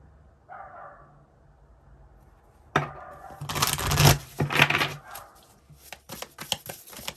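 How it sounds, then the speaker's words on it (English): A dog barks in short bursts, fairly close and loud, over a quiet room with faint rustling between the barks. "Listen to this dog."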